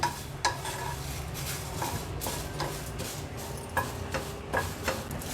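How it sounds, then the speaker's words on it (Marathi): Finely cut bay leaves dry-roasted in a pan for garam masala make a soft, steady rustle, with repeated light clinks and scrapes of a spoon against the pan at a loose, uneven rhythm. "आता ह्याच पॅनमध्ये हा तेजपत्ता आहे ना मी अगदी कैचिनीनं बारीक बारीक असा कट करून घेतलाय म्हणजे व्यवस्थित हा भाजला जाईल"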